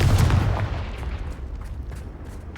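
Confringo fire-spell explosion in Hogwarts Legacy: a loud blast at the start that fades into a crackling, rumbling tail with scattered smaller pops, no voices.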